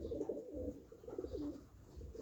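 Soft, low cooing from racing pigeons repeats in a few gentle phrases, close by and quiet, with no talking.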